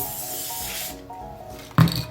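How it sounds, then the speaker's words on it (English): Spray adhesive hisses from a can onto a plastic template during a DIY LED ball drop build: a steady airy spray for about a second, a quieter pause, then a short louder burst near the end. "we're just going to take some spray adhesive"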